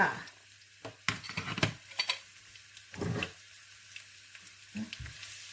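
Chopped garlic dropped into hot oil in a pan for Thai seafood fried rice, giving short bursts of sizzling and frying with scraping stir strokes, fairly close, no talk.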